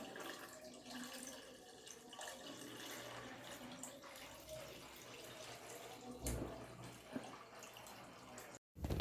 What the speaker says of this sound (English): we're going to refilter into the other bucket